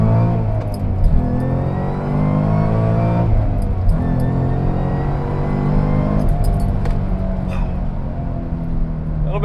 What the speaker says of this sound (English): Let's do another launch control.